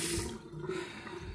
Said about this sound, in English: Sorry about the water.